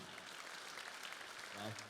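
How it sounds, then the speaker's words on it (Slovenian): Applause at a Slovenian graduation ball dance, continuous clapping from the crowd under a fairly even level, with a voice briefly rising near the end. "Aplavz, bravo, odlično."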